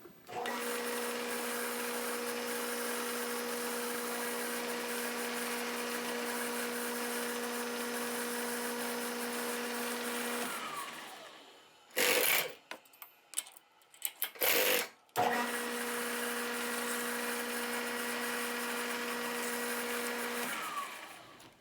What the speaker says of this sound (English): We're going to center drill and then drill 1/4 inch holes.